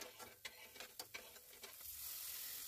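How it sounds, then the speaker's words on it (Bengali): Spice masala with chilli, turmeric, cumin powder, chopped coriander and peas being stirred in a pan, a few soft scraping strokes under a quiet sizzle that swells to a steady hiss at the end. "এবার এই মশলাটাকে খুব ভালোভাবে কষিয়ে নিতে হবে, যাতে মশলার কাঁচা গন্ধটা চলে যায়।"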